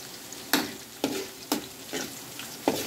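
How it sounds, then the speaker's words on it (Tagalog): Chopped onions sautéing in a hot pan for pork bopis, a soft steady sizzle broken by five sharp stirring scrapes spaced about half a second apart, close and fairly quiet. "in-next natin yung ating sibuyas. Pero wait lang, hintayin muna natin siya mag-brown ng konti."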